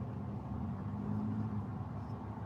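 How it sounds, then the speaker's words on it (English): An engine idles steadily with a low, even rumble, fairly quiet and unchanging throughout, with no voices. "I did like what I heard when I heard the engine run."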